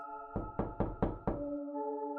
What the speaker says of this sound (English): They banged on his door several times